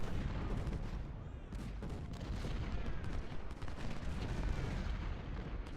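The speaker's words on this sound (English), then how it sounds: "Bring up the cannons!" Cannon and artillery fire rumbles through a Civil War battle in the video game Ultimate General: Civil War, a dense continuous din of booming shots and gunfire at moderate distance.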